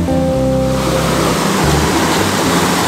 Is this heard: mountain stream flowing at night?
yes